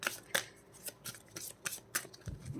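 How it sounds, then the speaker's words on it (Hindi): A tarot card drawn from the deck, heard as a series of crisp, faint paper snaps and flicks in an uneven rhythm, close by and mostly alone. "अब ये लास्ट कार्ड निकाल रही हूं मैं"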